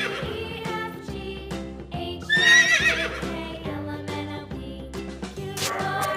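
A horse neighs loudly, a long shrill whinny rising over a steady background of other animal calls and low rhythmic sounds.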